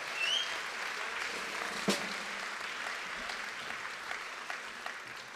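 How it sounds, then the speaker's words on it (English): A crowd applauding steadily, a broad wash of clapping that holds at an even level for several seconds with a few cheers mixed in. "Yes, I thought you'd cheer."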